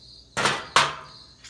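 A small hammer taps a screwdriver to free a stuck socket during work on a Dodge: two sharp metallic strikes close by, each ringing briefly, with a faint high insect-like whine in the background.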